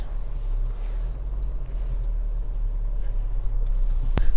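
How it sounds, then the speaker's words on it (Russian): A 2021 Haval H6 crossing a washboard corrugated road, heard from inside as a steady low rumbling drone with faint rattles and a sharp knock near the end, no talking. "И на примере моего автомобиля посмотрим, как он преодолевает гребенку."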